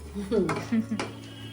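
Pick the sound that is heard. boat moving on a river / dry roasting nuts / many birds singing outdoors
dry roasting nuts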